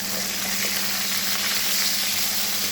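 Pomfret fish frying slowly in a pan of oil, a steady dense sizzle with soft crackling that holds evenly throughout, close and alone with no talking.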